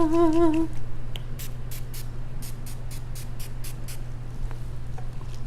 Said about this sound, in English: So I'm gonna use this setting spray by NYX Professional Makeup.